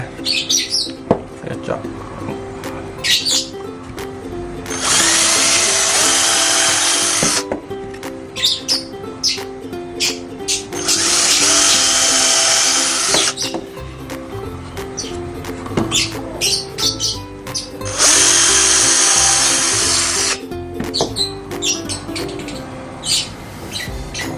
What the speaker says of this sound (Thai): แล้วก็มาเจาะตรงนี้อีกหนึ่งสองสามสี่ เพื่อความแน่นหนา